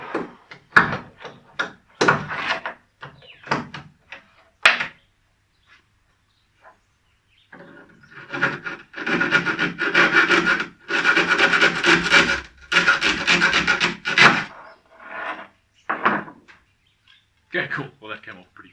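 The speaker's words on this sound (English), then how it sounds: "So I'm just going to use a hacksaw, clamp it on, and just cut the end off" A hacksaw cuts the end off a clamped mash tun pipe, giving bursts of loud, close, rhythmic rasping strokes. A long steady run of sawing follows, then a few short strokes near the end.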